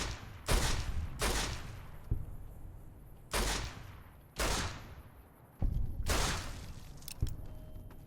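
Gunfire in Fallout New Vegas: about half a dozen loud, sharp shots fired at irregular intervals, each with a roaring decaying tail, close and alone without talk.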